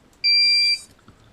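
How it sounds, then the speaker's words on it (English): A single sustained electronic beep from a Hobbyking flight controller during calibration, high-pitched and steady, lasts about half a second, close and clear against near silence. "You'll hear the beeps."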